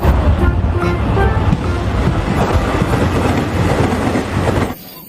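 A toy Japanese train plays its train sound effect, a steady, loud, rattling rumble that runs continuously for nearly five seconds and then cuts off abruptly.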